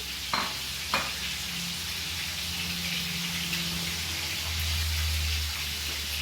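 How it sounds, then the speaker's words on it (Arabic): Tomato sauce with added tomato paste cooking in a pan: a steady soft sizzle throughout, with two sharp utensil knocks at the start. "ها هي نخلط كاع ندوز كلشي مع بعض نخليهم يطيبو"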